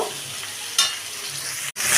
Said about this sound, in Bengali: এই বরবটিগুলোকে আমি একটু ভাজা হতে দেব।